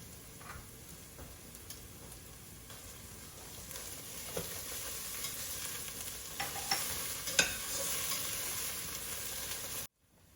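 Ingredients for a low-carb Mexican noodle soup stirred in a hot pan, a quiet continuous sizzle broken by scattered scrapes and taps of the utensil, growing slightly louder before cutting off near the end.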